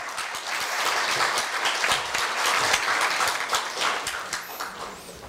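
Sustained audience applause at a Korea University staff retirement ceremony, dense and steady throughout as a room full of people claps for a retiree during a bouquet presentation and photo.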